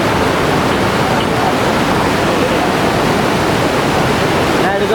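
Waterfall at Old Courtallam in Tamil Nadu, a loud, dense, unbroken roar of falling water filling the whole clip, close and constant with no clear voices.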